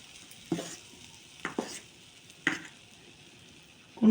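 Biulir dal (urad lentil) fritters frying in oil for dahi vada, heard as a soft steady sizzle broken by three or four sharp stirring clinks and splashes, close and with no voices.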